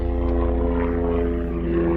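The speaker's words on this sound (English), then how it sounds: "Apparently guys do stop and watch helicopters whenever they go by." Helicopter going by overhead, a loud steady droning rotor and engine tone with a faint chopping pulse, heard without speech.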